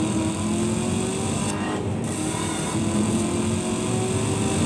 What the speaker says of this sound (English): Oh, we got a bit of a drift.